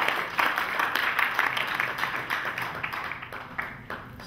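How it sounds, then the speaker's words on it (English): A crowd at a Christmas carol festival applauds, dense clapping holding steady for a few seconds and then starting to thin out. "Let us clap hands for all the"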